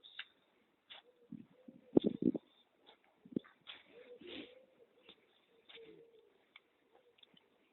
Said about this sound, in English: Not just some birds making noises up the trees.